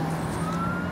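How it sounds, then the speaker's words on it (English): An ambulance siren sounds as a rising steady wail heading along a highway, heard through a continuous rumble of road and traffic noise. "an ambulance"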